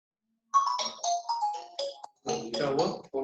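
A phone ringtone plays a loud, bright melodic tune of short tonal notes, then a fuller, busier phrase after a brief gap, clearly in the foreground with no talking over it.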